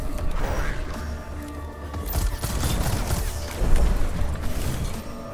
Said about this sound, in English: Now we can shoot.